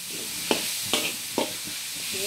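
Coconut and brown sugar mixture stirred firmly in a pan, three distinct scraping strokes with a soft sizzle underneath, close and fairly quiet.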